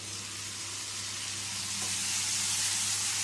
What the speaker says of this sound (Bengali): মশলাটা আবারও কিছুক্ষণ কষিয়ে নিতে হবে।